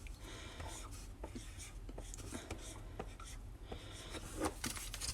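A child writes a word with a pencil on paper, with soft scratchy strokes and small taps coming in short bursts, quiet and close.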